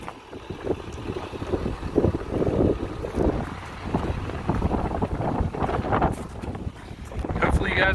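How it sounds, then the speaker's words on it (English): Strong wind buffets an outdoor microphone beside a truck, a steady roaring rumble with gusty low surges throughout, alone with no talk. "Boy, is it windy today."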